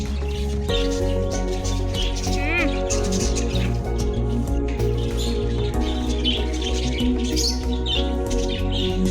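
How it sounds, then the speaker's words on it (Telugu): Many birds chirp at a tourist spot in Sambalpur district, with bright tweets scattered over a loud, steady tonal background and some voices. "చూడండి ఎన్ని బర్డ్స్ ఉన్నాయో."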